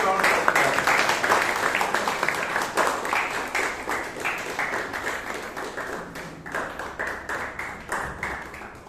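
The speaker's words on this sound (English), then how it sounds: "Please give a huge round of applause." Audience applause at a Bangalore Toastmasters club meeting, a steady wash of clapping from a room of people that holds fairly loud for several seconds, then gradually thins and fades.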